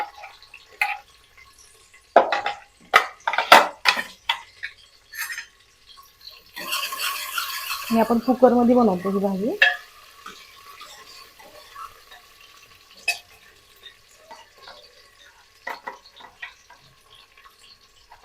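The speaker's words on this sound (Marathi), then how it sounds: "तेल गरम झालं आपण कांदा घालूया कांदा आणि कढीपत्ता" Onion and curry leaves dropped into hot oil for a mixed-vegetable dish, giving a loud burst of sizzling and crackling mid-clip, surrounded by stirring and clattering utensil knocks, with someone speaking briefly.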